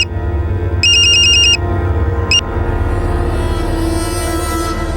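A telephone rings twice in a tense indoor scene in a Hindi crime drama, first a sustained electronic trill, then a brief second burst, both loud over a low rumbling background with no talk.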